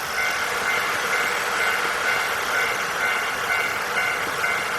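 A train rumbles in the PS5 game Nostalgic Train, a steady, loud mechanical drone with a constant hiss and no change in level, heard alone without talk.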